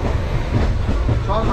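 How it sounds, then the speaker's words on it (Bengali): A passenger train runs at high speed, a loud steady rumble and rattle with faint clicks of the wheels, heard from on board. "ট্রেন কিন্তু দুরন্ত গতিতে চলছে।"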